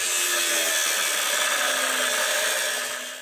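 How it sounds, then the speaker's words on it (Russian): An angle grinder cuts through the mounting nuts of a 19th-century cast-iron fountain outdoors, a steady high-pitched grinding screech held for several seconds before tapering off, with no voices. "Рабочий болгаркой срезает гайки крепления."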